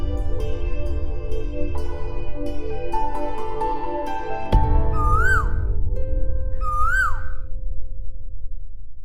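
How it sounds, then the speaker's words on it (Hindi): Koel calls in a TV drama scene, two rising and falling whistled notes repeated after a tonal music bed fades, clear and fairly close with no speech. "कोयल वापस आ गई।"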